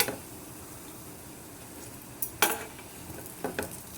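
Bread slices toasting in a pan, with a faint low sizzle through most of the stretch and a few short scrapes and clinks of a utensil against the pan near the end.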